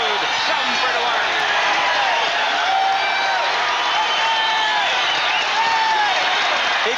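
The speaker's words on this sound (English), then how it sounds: "The crowd is standing and yelling." A boxing crowd on its feet yelling at ringside between rounds, a loud continuous roar of voices with shouts and whistles rising over it, while a commentator's voice runs on top.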